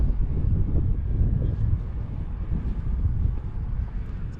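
Gusty wind buffets the microphone at an RC glider flying field on a windy day, a low, rumbling roar that churns continuously without letup.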